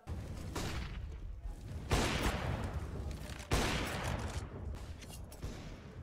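Counter-Strike gunfire in a professional match, with two loud AWP-like sniper blasts about a second and a half apart, each trailing into a long reverberant decay over steady game ambience.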